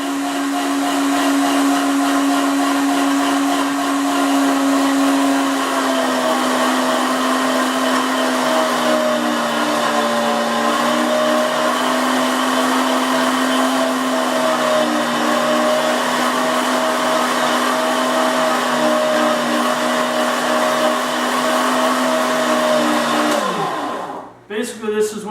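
An electric meat grinder motor grinding chicken whirs loudly and steadily with a tonal hum, its pitch dipping slightly as it works, then winds down and stops.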